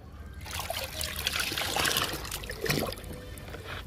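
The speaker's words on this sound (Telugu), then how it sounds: "ఈ బకెట్లో కూడా పోస్తున్నా. ఇప్పుడు కలుపుకుందాము." Liquid fertilizer being poured into a bucket of water and mixed, giving a steady trickling and splashing stream that swells and fades over a few seconds, fairly close.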